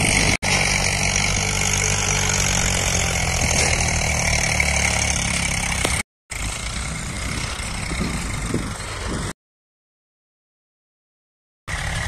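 Several tractor engines idle steadily at a riverside sand loading site, a continuous mid-range rumble that holds close and fairly loud, broken by two short gaps of silence.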